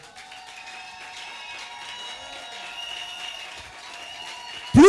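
Church congregation during worship cheering and applauding, a faint distant wash of clapping and voices under sustained tones, ending in a sudden loud close burst.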